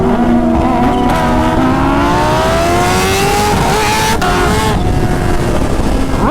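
Kawasaki Ninja H2 motorcycle doing a tire burnout at an H2 owners' meet, a loud sustained engine roar with rising revs and harsh tire noise throughout, close and continuous.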